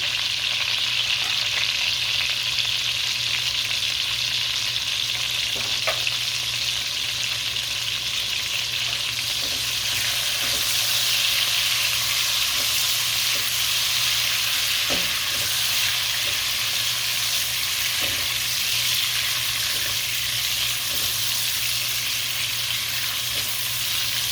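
Rice frying in a pan for shrimp fried rice makes an even, unbroken sizzle throughout, with occasional soft spatula taps and no talking.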